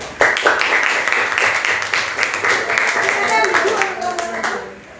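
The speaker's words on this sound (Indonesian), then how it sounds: "Kita beri aplaus untuk kelompok 1." Classroom applause for a student group that has just finished presenting, with many hands clapping in a steady dense patter that starts abruptly and fades toward the end; a few voices murmur underneath.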